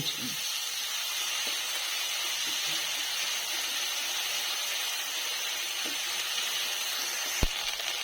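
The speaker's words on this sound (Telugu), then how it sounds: "అల్లం వెల్లుల్లి పేస్ట్ వేయించండి" Ginger garlic paste fries in a hot pan with a steady, bright sizzle and hiss throughout, close up, ending with a single sharp clink near the end.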